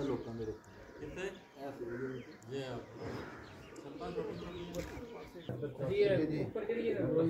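Pigeons cooing on a rooftop, repeated soft coos mixed with chatter as people talk over them nearby.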